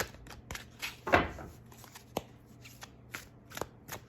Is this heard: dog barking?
no